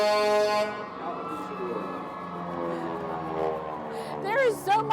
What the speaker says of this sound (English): We have air horns.